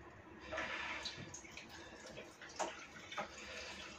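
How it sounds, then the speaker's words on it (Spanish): Water poured off clams in a bowl in a kitchen, a soft, close trickling and splashing that comes in short uneven bursts at low volume. "Voy a quitar un poquito el agua para que la veáis."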